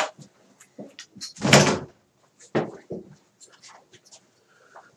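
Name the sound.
door being closed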